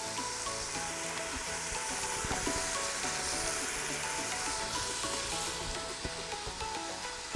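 Garlic and apples sauté in an Instant Pot for butternut squash and apple soup, giving a steady, close sizzle of frying with light stirring scrapes underneath.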